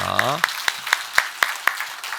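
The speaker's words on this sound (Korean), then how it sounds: "우리 성가대에서 한 번 더 박수하겠습니다" A short round of slow, evenly spaced claps at a church Sunday service, about eight distinct claps in a steady rhythm following a voice at the start.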